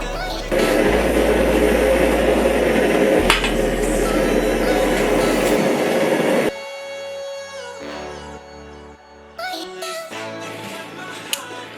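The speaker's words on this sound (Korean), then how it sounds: "불맛을 좀 내보려고 토치를 사용했어요." A steady roaring hiss of a kitchen blowtorch searing tuna runs for several seconds with a brief break, then cuts off into quiet clinks and soft handling noises.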